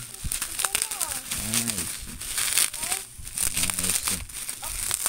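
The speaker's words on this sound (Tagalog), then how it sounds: "Gamitan natin ng gunting para makuha natin itong bubble wrap." Bubble wrap crinkling and rustling near at hand as a package is unpacked and cut open with scissors, irregular crackles mixed with a few squeaky tones and faint talk.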